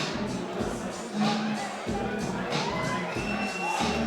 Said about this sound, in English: The crowd's starting to fire up again.